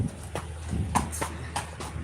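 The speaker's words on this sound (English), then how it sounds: "this one is a quarter horse" Quarter horse hooves clip-clopping on a hard surface, a handful of sharp, evenly paced knocks at close range over a faint background hum.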